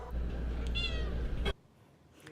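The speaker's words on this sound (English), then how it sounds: "Those cats sure are cute." Cats meowing in a short clip from a local news report about spay and neuter programs: a clear, close meow rises over steady low background rumble, then the sound cuts to near silence.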